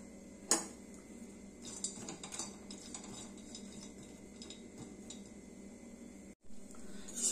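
Grated coconut dry-roasting in a pan, with a spatula scraping and clinking against the metal in steady, irregular strokes over a low background hiss, and one sharper knock near the start.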